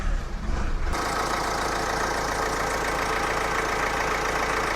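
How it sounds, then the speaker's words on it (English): Nissan Juke engine cranks over and fires, then settles into a steady, even idle heard up close and fairly loud, with no talking. "So I'm going to fire it up."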